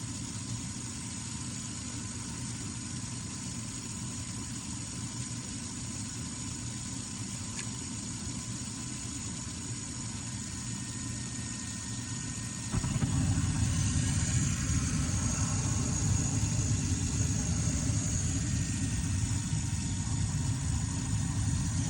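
Carrier gas furnace that had been failing to ignite, running with a steady mechanical hum, then its burner catching with a sudden rise into a fuller, louder roaring rush that holds to the end.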